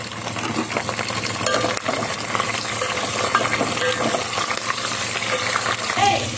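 Onions and green chillies frying in oil for a mushroom biryani, a steady close sizzle with scraping stir sounds throughout and no talk.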